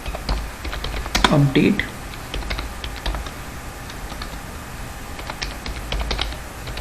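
Fingers typing an SQL query on a computer keyboard while editing database data for a C# ASP.NET web application: a steady run of light, close key clicks, with a brief spoken word near the start.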